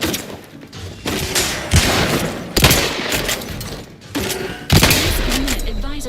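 Shotgun blasts ring out in The Outer Worlds 2, several loud booming shots spaced a second or so apart amid game combat noise, with a voice talking at times between them.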